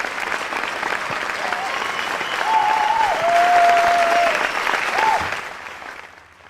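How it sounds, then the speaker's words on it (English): Warm audience applause at a Junior Achievement Nigeria stakeholder convening in a conference hall as a speaker comes to the stage for a plenary session, steady and dense clapping with faint tonal sounds, swelling midway then fading out. "Please give her a warm round of applause as she comes to the stage for this plenary session."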